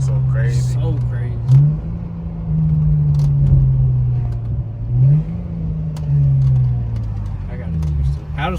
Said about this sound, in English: Them downshift sounds so crazy.